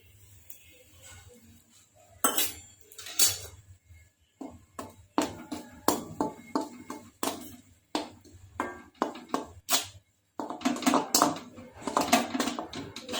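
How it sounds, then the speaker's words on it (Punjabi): Metal spatula scraping and clinking against a wok (kadhai) while flour roasts in ghee for flaxseed panjiri, with irregular close taps and scrapes in quick clusters and no talking. "ਹੁਣ ਆਪਾਂ ਕੜਾਹੀ 'ਚ ਹੋਰ ਘਿਓ ਪਾ ਕੇ ਆਟਾ ਭੁੰਨਾਂਗੇ"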